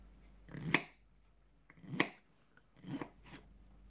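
A knife cuts through tough matsutake mushrooms on a chopping board, giving three separate crisp, crunchy snaps spaced about a second apart, close and quiet with no talk.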